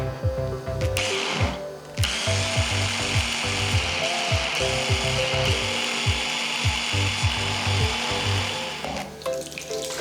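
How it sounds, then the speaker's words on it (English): A blender blitzing chicken pathia curry sauce whirs loudly for several seconds with a rattling, chopping rhythm underneath, then winds down. "And now blitz it until it's smooth."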